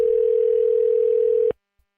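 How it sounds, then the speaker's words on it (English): A telephone signals an incoming call with a single steady electronic tone that holds for about a second and a half, then cuts off into near silence. "Somebody's calling in."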